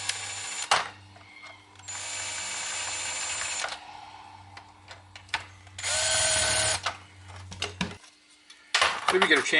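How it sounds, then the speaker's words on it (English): A power drill drives a couple of screws to hold a body in place during a woodworking build, with several loud sustained whirring bursts, clattering handling noises and a low hum between them, close to the mic. "what I'm going to do quickly is chuck a couple of screws in to hold the body, keep the body from moving around"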